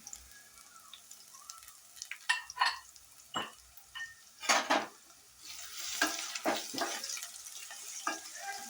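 Crushed garlic is stirred into hot oil in a pan while cooking leafy greens, giving a soft sizzle under repeated scraping and stirring strokes, close and moderately loud.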